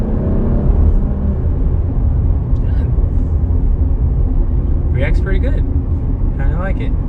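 A 2019 Jeep Cherokee Trailhawk engine pulls steadily at half throttle, a continuous low rumble heard from inside the cabin with some brief faint squeaks and ticks over the top.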